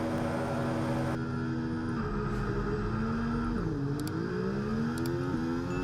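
F1 24 race cars revving at the race start at Abu Dhabi, a dense droning engine chorus whose pitch dips and climbs as the pack pulls away, loud and continuous with no talk.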